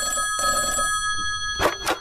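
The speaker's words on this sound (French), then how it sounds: "Et allez, encore ce maudit téléphone" An old-style telephone bell rings in two short bursts, close and clear, following a brief stretch of background music in a comedy sketch set in a household.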